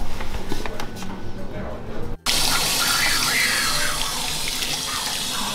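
Tap water runs steadily into a salon basin while hair is washed at a hairdresser, a close, continuous splashing hiss that breaks off briefly and then resumes with a fuller gush.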